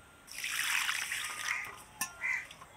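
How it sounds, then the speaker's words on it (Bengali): Bhog Tap rice being washed in water for payesh, a steady close swishing and splashing of grains in a pot lasting a few seconds, with a brief clink and a last splash near the end. "পায়েসের জন্য ভোগাতপ চাল নিয়েছি, পরিষ্কার করে ধুয়ে নেব।"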